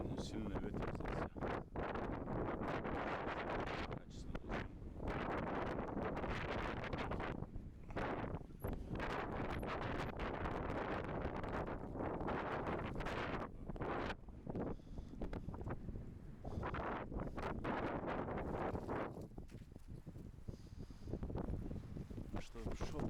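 Strong wind batters the microphone at a carp fishing spot, a constant loud roaring rumble that never lets up, with faint voices partly buried beneath it.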